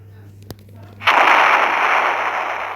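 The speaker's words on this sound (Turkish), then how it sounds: "Şimdi arkadaşlar kendi evimin kasası burada. Ve kendim patlatacağım." A safe is blown open in a video game: a single sharp click, then a sudden loud blast that settles into a long roaring rumble.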